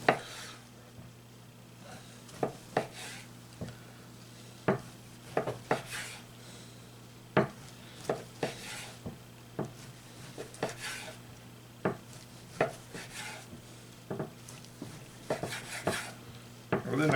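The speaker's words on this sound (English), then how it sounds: "Let's slice some off here, see how we did." A knife slices through smoked brisket, making a run of soft, irregular cutting taps and scrapes against a board over a quiet, humming background.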